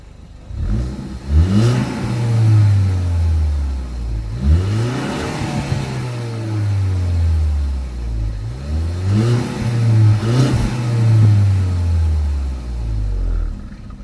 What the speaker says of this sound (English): Let's get a little exhaust sound.